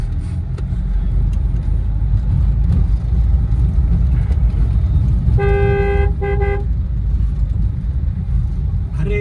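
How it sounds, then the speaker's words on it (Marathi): Stuck in a traffic jam, a constant low engine rumble fills the road while a car horn blares twice in short bursts near the middle, loud and close. "अरे जवळजवळ हुपरीपर्यंत ट्रॅफिक आहे असं वाटतंय आम्हाला."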